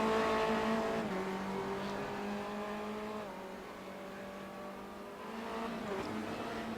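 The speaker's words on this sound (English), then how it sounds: "Around towards that club turn goes the 61 car." Race car in the iRacing simulator lapping Silverstone through the club turn, a steady engine drone with rising and falling revs as it brakes and accelerates, moderately loud and alone.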